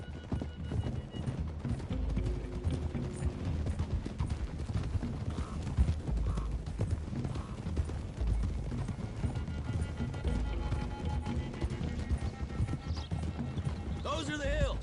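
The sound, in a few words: horses' hooves from the video game Red Dead Redemption 2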